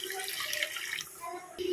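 Water streams and splashes into a pan of sautéed egg curry base, a bright continuous pour lasting under two seconds, close by with no talking.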